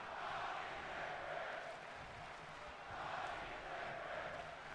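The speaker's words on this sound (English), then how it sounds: "Little chant there for John Morrison." Arena crowd in WWE 2K22 chanting for John Morrison, a rhythmic, swelling chant that rises and falls in waves at a moderate distance, continuous throughout.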